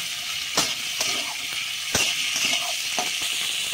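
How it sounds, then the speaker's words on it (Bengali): Spring onion stalks fry lightly in a small amount of oil, making a continuous sizzle broken by a few sharp spatula clacks and scrapes as they are stirred, with no voices. "পেঁয়াজ কলিগুলো আমি হালকা করে ভেজে নেবো একটু"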